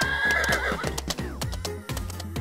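A fast horse gives a shrill neigh at the start, followed by a steady run of sharp clip-clop hoofbeats that stays loud and close throughout.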